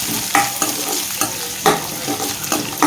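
A tempering of carrot, onion, green chilli, garlic and chana dal fries in a pan, a steady close sizzle marked by several sharp scrapes of stirring at irregular intervals, with no talk.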